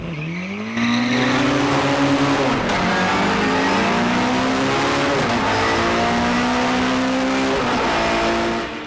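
A carburettor-fed Mini hillclimb race car launches hard up the hill, its engine rising loud and close through the revs with gear changes and sustained full-throttle howl.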